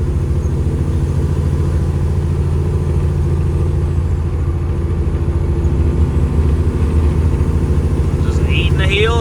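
A 650hp cabover truck engine lopes at light throttle, a loud, steady, close rumble with an uneven pulsing idle character, running continuously with no speech over it.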